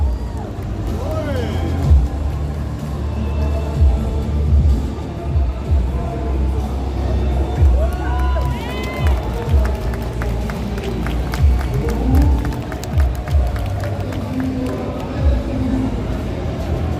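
At a Paris Games Week cosplay show on the Ubisoft stage, an indoor crowd applauds and cheers steadily for several seconds over a busy, echoing hall background.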